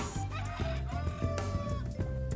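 Chickens on a farm in Bohol, Philippines, cluck in quick repeated bursts nearby, a fairly quiet rhythmic scatter of short calls with no talking.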